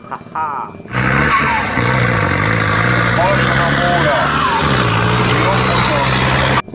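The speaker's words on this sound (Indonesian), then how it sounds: "Kita menemukan traktor." A loud, steady tractor engine rumble starts after a short pause and runs without a break, with higher warbling sounds layered over the drone.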